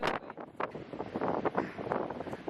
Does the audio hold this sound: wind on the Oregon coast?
yes